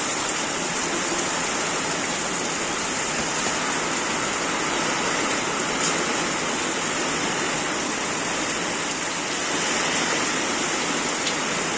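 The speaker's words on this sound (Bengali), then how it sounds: "কত জোরে বৃষ্টি হচ্ছে" Steady, dense rushing of heavy rain, a constant loud broadband wash with no pauses and no voices.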